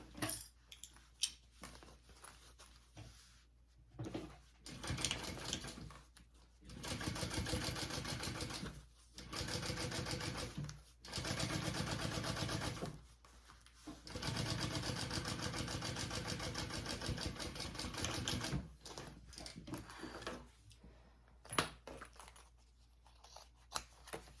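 A sewing machine top stitches a seam on a crossbody bag, running in several steady bursts of a few seconds each, separated by short pauses and quieter handling sounds.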